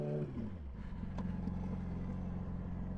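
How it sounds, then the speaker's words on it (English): A 2017 Yamaha R6 sport bike fitted with a quick shifter drops in revs, then settles into a loud, throaty idle rumble close by, steady with slight flutter, and no talking. "this bike is fucking loud"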